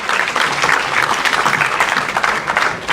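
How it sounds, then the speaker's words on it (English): A warm round of audience applause welcoming a speaker at a formal gathering, loud and sustained with many hands clapping in a dense, even wash from start to finish, no talking over it. "Please give him a warm round of applause"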